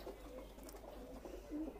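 Male pigeon, a Pakistani breed offered for sale, cooing softly with a few low murmuring coos over a faint steady hum, quiet and close, with no clear speech.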